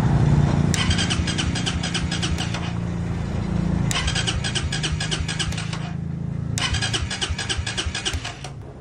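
A Suzuki Raider 150 FI motorcycle with a fuel-injected engine is cranked three times in a row. Each try brings a few seconds of whirring starter and engine turnover close to the microphone, with short pauses between the attempts.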